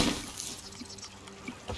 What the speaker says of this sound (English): I just splashed water on myself